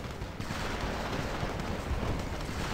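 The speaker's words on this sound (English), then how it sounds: "our gun towers, going ahead and shooting his witch doctor" Gun towers fire in the mobile game Plunder Pirates, giving a dense, continuous stream of crackling shots and explosions at steady loudness throughout.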